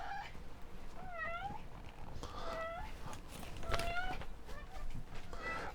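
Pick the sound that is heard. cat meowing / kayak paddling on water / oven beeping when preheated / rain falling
cat meowing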